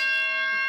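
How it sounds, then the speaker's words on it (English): A mock stock exchange bell, pulled straight down by a cord, rings with a loud, steady metallic tone that holds for under a second with no talking over it. "I have my very own mock stock exchange here. Would you like to ring the bell?"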